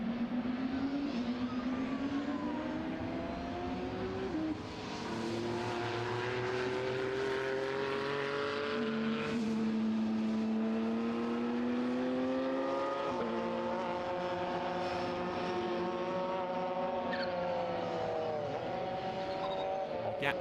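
SuperCars race cars lapping the Algarve circuit in Portugal, engines droning loud and steady with rising and falling pitch sweeps as several cars pass and shift gears, no voices over the roar.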